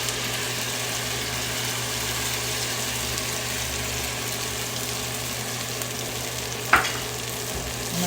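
Blended and chopped tomato sauce for egg sauce sautéing in a pan, a steady, even sizzle and hiss running throughout, with one brief clink of a utensil near the end.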